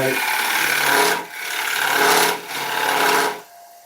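A cutting tool shears across dieback ash spinning on a woodturning lathe while the piece is squared off. The rasping cut is steady and loud, with two short pauses where the tool lifts off the wood.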